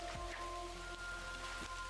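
Steady rain falls in the Hello Kitty Island Adventure video game, a constant soft hiss of drops with a faint tonal hum beneath and no voices.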